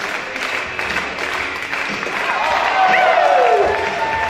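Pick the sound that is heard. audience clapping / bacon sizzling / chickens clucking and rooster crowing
audience clapping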